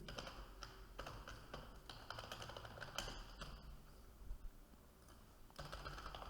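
Quick bursts of computer keyboard typing sound close and quiet while a C++ programming lesson is written, with short pauses between the runs of key clicks.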